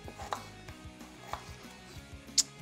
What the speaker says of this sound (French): Donc je vais peler un morceau de gingembre. Je le coupe grossièrement.